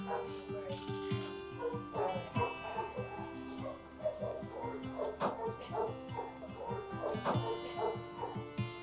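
In an animal shelter during morning cleaning, several dogs bark in repeated uneven bursts mixed with yips and whimpers, heard from a moderate distance.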